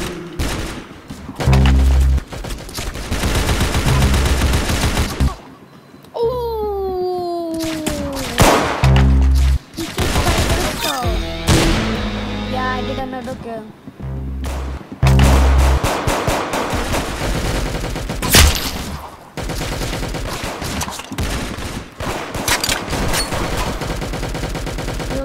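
Rapid bursts of gunfire from the Roblox shooter Arsenal, with repeated volleys and short gaps between them, loud and close throughout the clip.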